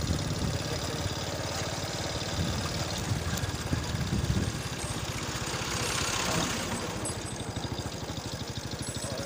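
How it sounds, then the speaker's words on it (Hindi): A tractor engine chugs and idles on a narrow village road, a steady mid-pitched rumble that swells for a moment partway through, heard without talk. "और आगे ट्रैक्टर आ गया तो उसे रास्ता भी देना है।"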